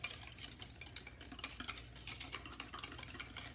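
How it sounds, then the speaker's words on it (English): Whisking peach cobbler batter in a bowl, with a steady run of quick, close scraping taps from the whisk against the bowl, fairly quiet and continuous, with no talking. "I'm just whisking this together"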